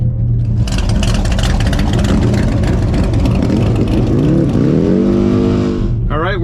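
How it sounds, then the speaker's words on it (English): A white C3 Corvette with side pipes revs hard and accelerates at a drag strip, a loud, raspy V8 roar that climbs steadily in pitch, close and continuous. "this white C3 Corvette came in on a trailer. It's got side pipes, sounds real good"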